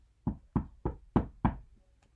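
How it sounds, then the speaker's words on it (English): Five firm knocks on a door, evenly spaced and close, with short gaps and no voices. "He knocked on the door."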